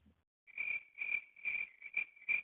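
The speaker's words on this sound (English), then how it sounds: "Crickets, crickets, crickets." A cricket sound effect chirps in repeated bursts, about five evenly spaced trills that are clear and close against silence.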